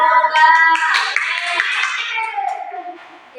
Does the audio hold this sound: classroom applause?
yes